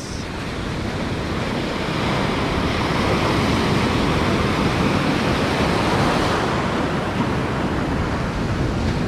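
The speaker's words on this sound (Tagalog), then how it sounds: "So grabe yung alon mga lods." Strong ocean surf crashes continuously on the Palawan coast, a loud, roaring wash of breaking waves with wind buffeting throughout.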